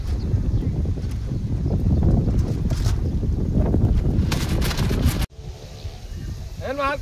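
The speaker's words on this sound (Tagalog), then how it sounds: "Lakas ng hangin, sobra." Strong wind buffets the microphone outdoors beside a boat-shaped kite, a loud, gusty roar with rustling that drops abruptly near the end to a quieter background, where a faint voice is heard.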